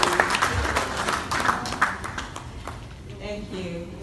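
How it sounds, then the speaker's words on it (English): An audience at a national convention claps in a scattered, moderately loud round of applause that thins out toward the end, with a voice speaking faintly underneath. "Can we give another round of applause for her"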